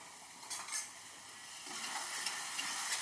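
Chicken masala is stir-fried in a pan, a faint, quiet sizzle with a couple of brief stirring scrapes near the start and a slightly stronger hiss toward the end, with no one talking.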